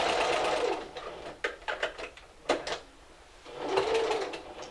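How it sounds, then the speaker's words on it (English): A sewing machine stitches the hem of a robe in short, buzzing bursts, with brief pauses between runs and a final steady stretch, close and fairly loud. "let's go ahead and sew that in. All the way to the edge"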